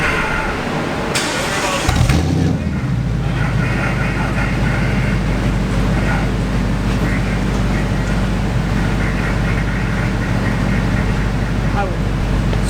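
A 2020 Dodge Challenger Hellcat engine running on a dyno settles into a loud, steady, deep drone after a brief rising surge, holding constant and close throughout.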